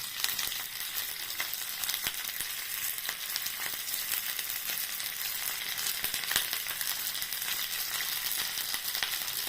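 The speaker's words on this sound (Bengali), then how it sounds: "আমি এবার একটা কড়াইতে তেল বসিয়ে গরম করে নিলাম।" Hot oil in a karai sizzles and crackles steadily while Bengali doi katla is cooked, a close, continuous frying hiss with scattered sharp pops and no talking.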